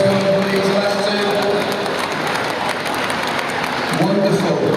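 Spectators applauding at a wheelchair rugby league match, a continuous loud wash of clapping and crowd noise with a voice speaking over it in places.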